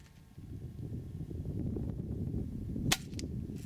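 A jammed Daisy 102 BB gun fires once with a single sharp, close crack late in the clip, following a steady outdoor rumble of wind or handling noise.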